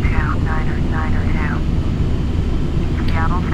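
Aircraft engine drone in Flight Simulator X on a flight from Yakima to Seattle, a steady loud hum heard throughout, with a person talking over the first part and again near the end.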